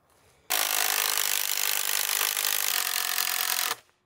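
A power saw cuts a cross section from wood during an outdoor kitchen build on a rural property in Northern Italy. It gives one loud, steady, close grinding whine that lasts about three seconds and then stops abruptly.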